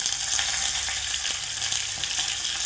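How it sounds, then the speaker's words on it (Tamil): Crushed garlic, curry leaves and chilli temper in hot oil for a bottle gourd dish, giving a loud, continuous close-up sizzle with crackling pops and no talk. "வாசனைக்காக மேலே ஒரு ரெண்டு மிளகாய் இதை போட்டு தாளித்து மேலே கொட்டிக்கலாம்"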